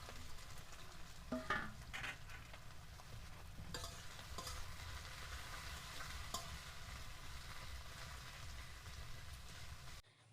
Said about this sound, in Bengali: কড়াইয়ে তেল গরম করে নিয়েছি, এবার বিরিয়ানি বানানোর জন্য পেঁয়াজের বেরেস্তাটা ভেজে নেব